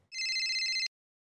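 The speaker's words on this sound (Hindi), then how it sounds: "मम्मी का फोन।" A phone ringtone sounds once in a bright, warbling electronic trill that holds steady for nearly a second and then cuts off abruptly, leaving silence.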